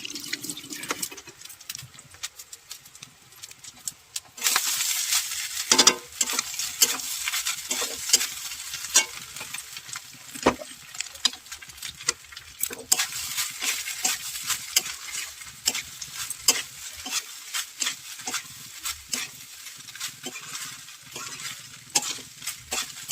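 Rice stir-fried in a kadai over a low gas flame, a steady close sizzle with repeated scraping and stirring strokes of the spatula against the pan, no voices.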